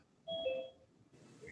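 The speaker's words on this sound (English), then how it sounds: "you're receiving a notification right now." A short two-tone notification beep from a video meeting platform sounds faintly, a brief electronic chime followed by quiet room noise.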